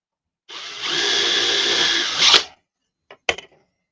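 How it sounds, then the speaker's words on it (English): A power drill bores a hole for an aircraft wing repair on a Navion plane, running steadily for about two seconds at close range before stopping, followed by a few short clicks and taps. "we can just drill a hole anywhere"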